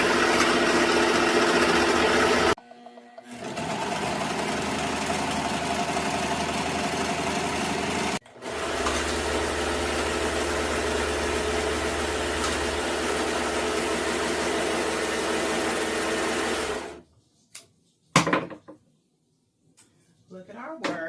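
A serger sewing machine trimming the hip seam of a white skirt, running in long steady buzzing bursts with brief pauses, close by, with a voice talking over parts of it.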